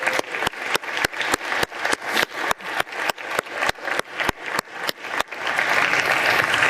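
Applause on the US Senate floor for Gary Myrick: an evenly spaced series of sharp claps, then a fuller, sustained wash of clapping from the chamber near the end.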